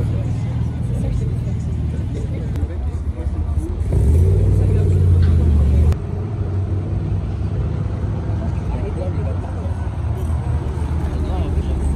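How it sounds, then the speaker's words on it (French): A Nissan 350Z engine revs once for about two seconds, a loud low growl rising above the rumble of an outdoor car gathering at Place Vauban, with crowd noise before and after. "Nissan 350Z."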